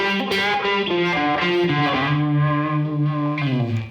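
A distorted electric guitar plays a slow blues phrase with notes bent up a flat seventh that slide upward and sustain, thick and loud with a slight chorus shimmer.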